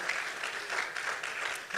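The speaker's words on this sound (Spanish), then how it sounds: "Denle un aplauso a su Cristo que tanto nos amó." Congregation applauding in a church service, a steady wash of many hands clapping, fairly quiet and continuous throughout.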